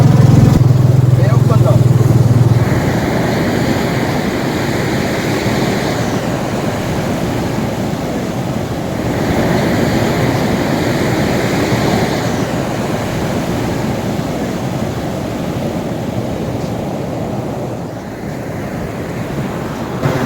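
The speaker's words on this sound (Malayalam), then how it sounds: "ഇത് ബംഗാൾ ഉൾക്കടലാണ് ഈ കാണുന്നത്" Sea waves break on a long sloping Bay of Bengal beach, a loud, steady roar of surf with slow swells and wind buffeting the microphone throughout.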